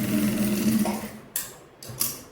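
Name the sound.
sewing machine stitching a kurti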